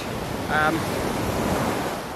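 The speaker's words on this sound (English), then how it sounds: "really strong waves here on this beach" Strong ocean waves crash continuously on a Costa Rica beach, a loud steady roar of surf mixed with wind buffeting the microphone, and a short bird call cuts through briefly.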